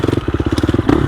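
Up close, a 2021 GasGas EX 350F dirt bike chugs through a technical section in second gear, its engine thumping in a quick, steady, loud rhythm with a brief scrape near the end.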